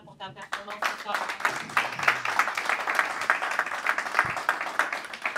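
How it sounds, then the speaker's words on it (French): A crowd at a post-fight MMA press conference claps for a fighter, brisk, dense applause lasting several seconds with voices mixed in. "on peut t'applaudir pour ta performance ce soir"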